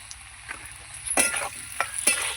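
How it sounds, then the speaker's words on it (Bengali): Potatoes with turmeric and salt fry in a pan, a soft sizzle broken by a few louder stirring scrapes, close up and without talk. "আমি কিন্তু ঢেকে ঢেকে আলুটা ভেজে নেব"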